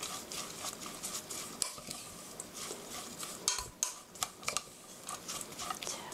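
Hash brown ingredients are tossed and mixed in a bowl with a utensil, producing a continuous wet, rustling patter broken by irregular clinks and knocks against the bowl.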